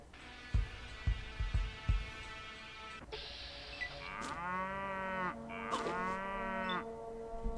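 A wild, angry two-headed Brahmin cow in the game Fallout Nevada lets out a couple of drawn-out, throbbing moos, preceded by a few low thumps, loud and close with no talk.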